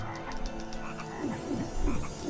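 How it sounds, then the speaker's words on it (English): Frogs croak again and again in the MediEvil video game, repeated low rasping calls that overlap in a busy rhythm over a steady ambient backdrop, getting a bit louder toward the end. "Frogs! Why?"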